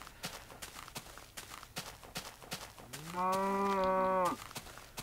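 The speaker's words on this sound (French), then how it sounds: "Vaches, des vaches," A cow in a video game farm gives one long, clear moo near the end, preceded by soft rhythmic footsteps; no talking.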